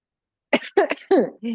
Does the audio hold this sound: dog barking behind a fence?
no